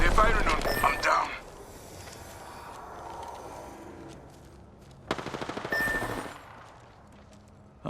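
Bursts of video game gunfire, a loud rapid volley at the start, then quieter background noise before a second sharp string of rapid shots around the middle, with a voice speaking briefly.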